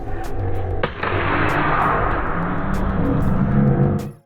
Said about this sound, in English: Bang! Stopped and slapped.